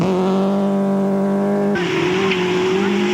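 A 1600cc Toyota Corolla rally car drives hard on a stage of Rally Nelson, its engine a loud, close, sustained high-revving drone that shifts pitch sharply midway, as with a gear change.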